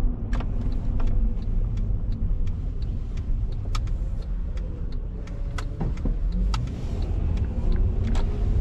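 Car driving along Broadway in Bayonne, New Jersey, with a steady road and engine rumble throughout and occasional faint clicks and ticks over the top; no talking.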